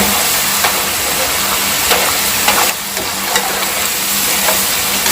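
Cassava chips deep frying in hot oil give a steady, dense sizzle and bubbling crackle that holds close and loud throughout, with occasional brief pops and no voices.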